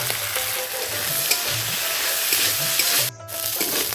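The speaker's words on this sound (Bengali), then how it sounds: "ভিতরের অংশটা আমি ভেজে নেব" Loud, continuous sizzling of teasel gourd filling frying with turmeric in a hot pan, with occasional stirring scrapes and a brief drop in the hiss near the end.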